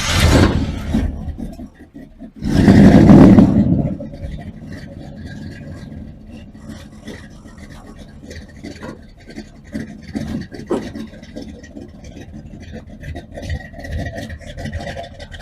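A 1981 Oldsmobile Delta 88 engine rumbles and revs loudly through its mufflers at first, then settles into a steady low idle with some scraping and rattling noises.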